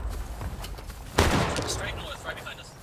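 A single sharp musket report cracks out partway through, then fades into a rumbling tail over a low background din and faint voices, in a Civil War battle video game.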